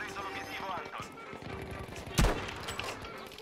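Gunfire in the Battlefield V video game, a single sharp, loud shot standing out midway over a dense background of distant battle noise and scattered fire.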